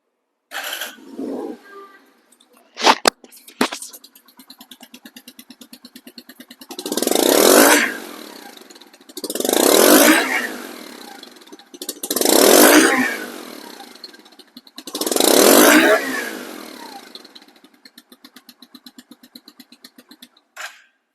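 A second-hand 80 model motorcycle idles with a steady fast putter, then is revved four times in a row, each swell rising and falling back to idle, close and loud.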